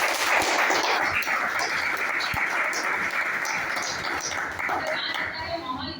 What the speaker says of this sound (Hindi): सिस्टम के लिए एक बार जोरदार ताली।